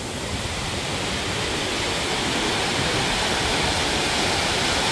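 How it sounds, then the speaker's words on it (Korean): Roaring Miin waterfall in Tongni canyon, Samcheok, about 50 m high with heavy flow and drifting spray, a loud, dense and steady rush of falling water heard up close with gusting wind and no talk. "이것이 미인폭포입니다."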